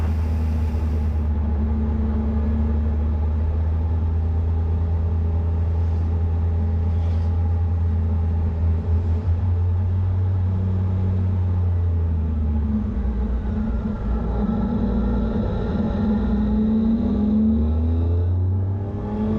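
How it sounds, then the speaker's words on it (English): Sports cars, a blue Nissan and a yellow Ferrari, pass on the Grossglockner mountain road, their engines swelling into a rising rumble over a constant nearby engine drone. "here come the sports cars. That looked like a blue Nissan chased by a yellow Ferrari"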